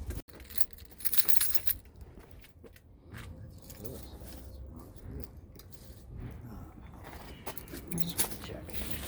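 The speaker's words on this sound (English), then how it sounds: "I'll grab your keys." Keys for a 1996 Saab 900 S jangling up close, a bright metallic rattle in the first couple of seconds, then fainter clinks and handling noises while a person talks quietly.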